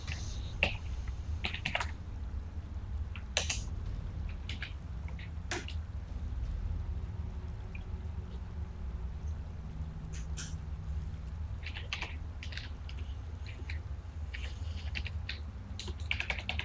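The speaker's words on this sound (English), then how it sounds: "it's the button to the left of the number 1" Computer keyboard typing while playing Skyrim: scattered clicks and taps at irregular intervals over a steady low hum of game ambience, fairly faint and without speech.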